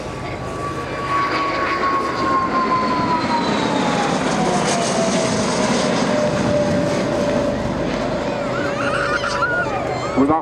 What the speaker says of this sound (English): The Bombardier Sentinel R1 of number 5 Army Cooperation Squadron, followed by the Boeing Sentry AW1